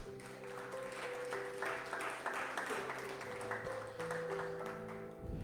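A church congregation claps together in a steady, dense patter at moderate distance, with sustained musical tones running underneath throughout.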